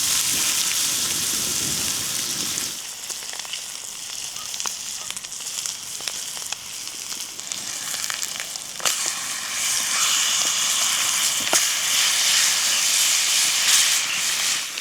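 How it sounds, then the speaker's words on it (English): Steady, dense sizzling hiss of steak frying in a hot pan, close and continuous, with a few sharper pops and crackles throughout. "The sizzling fat, the glistening juices, and the smoky crust are heartbreakingly mouthwatering."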